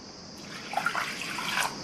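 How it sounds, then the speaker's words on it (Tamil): A quarter cup of water pours briefly into a metal pressure cooker, a short splashing trickle that rises slightly, close by. "1/4 கப் தண்ணி சேர்த்துருக்கேன்"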